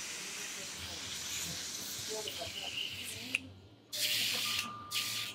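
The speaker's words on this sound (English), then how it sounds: "So I'm just blowing out this thinner. And as the thinner's coming through, it's clearing out the nozzle." An airbrush blows thinner out through its nozzle to clear it and clean the cup, giving steady hissing bursts with short pauses, the last ones louder and closer.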